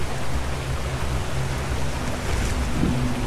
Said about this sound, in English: Alright, so this is the waterfall arena.